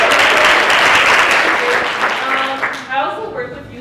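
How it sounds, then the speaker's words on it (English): Short burst of audience applause at a community family leadership café, loud at first then thinning out as a voice begins talking over the fading claps. "Oh, you get an applause for that."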